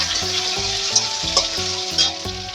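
Chopped onion sizzles steadily in hot oil with whole garam masala spices, cumin and bay leaf, loud and close, while a spoon stirs with occasional light scrapes and a low rhythmic hum runs beneath.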